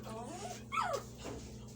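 A dog whimpers and whines in a few rising and falling cries, close by, over a steady low hum.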